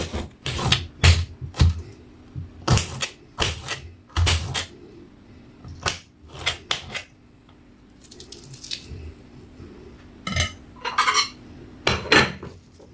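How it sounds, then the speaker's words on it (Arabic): A knife slicing through an onion on a cutting board, a series of close, crisp chops in irregular bursts with short pauses between groups of cuts, no talking. "اقطع البصل بالشكل ده اهو، اقطعيه كده بس طرنشات"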